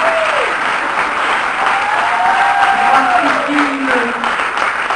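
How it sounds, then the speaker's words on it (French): Audience at a film debate in Liège gives a sustained ovation, dense steady clapping filling the room for several seconds with faint voices underneath. "Je vous propose de faire une ovation à Camille Sera"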